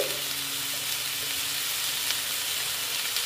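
Ginger fries in a pan with squash and potatoes, a steady close sizzle with light crackling and a faint low hum beneath.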